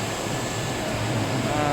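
The main machine of a 70+35 power cable extrusion line runs in a factory, producing a steady, loud mechanical hum with a constant broadband drone and no clear variation over the short stretch.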